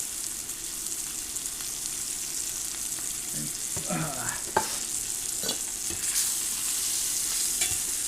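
Garlic sizzles steadily in olive oil in an iron skillet on an induction burner, a constant close crackle with brief scraping stirs partway through and no talk.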